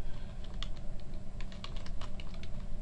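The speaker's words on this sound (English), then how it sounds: "I'm going to type the word graduation" Rapid typing on a computer keyboard, a close run of quick irregular key clicks over steady background hum, with no talking.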